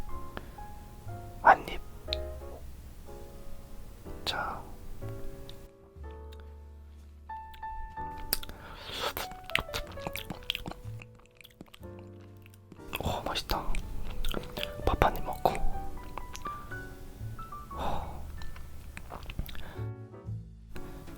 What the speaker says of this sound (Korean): 밥한입 먹고 간장게장